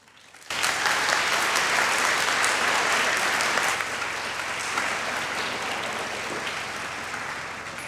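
A lecture audience bursts into sustained applause welcoming art historian Robert Hobbs at the de la Cruz Collection, loud steady clapping that starts abruptly and tapers slightly over several seconds, with no talking.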